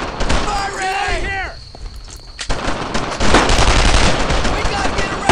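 Rapid bursts of automatic gunfire and heavy firing crackle through a World War II shooter, Brothers In Arms: Earned in Blood, loud and continuous, with a shouted voice at the start.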